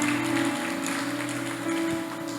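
A church congregation claps in sustained, steady applause during a worship service, the dense patter of many hands continuing throughout with faint music tones underneath.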